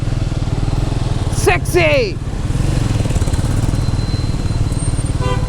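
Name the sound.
motorcycle engine revving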